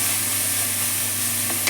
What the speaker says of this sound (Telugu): కొంచెం అది కొత్తిమీర, పచ్చిమిర్చి కొంచెం పచ్చివాసన పోయేంత వరకు వేయించుకోవాల్సిందే.